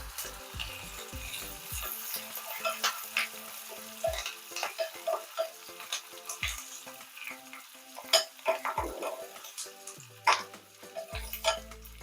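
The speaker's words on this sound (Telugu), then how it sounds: "అల్లం ముక్కలు, పచ్చిమిర్చి ముక్కలు, కరివేపాకు ఇవి కూడా వేసి కొంచెం వేపుకుందాం." Ginger pieces, green chillies and curry leaves sizzle in hot oil in a pan, with a spoon scraping and clinking against the metal in irregular bursts over a steady frying hiss, close and alone.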